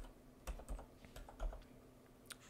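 Keystrokes tapped on a computer keyboard at a desk, a few scattered clicks and soft thumps in an irregular rhythm, quiet and close with no talking.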